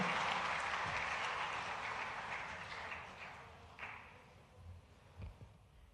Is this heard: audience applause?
yes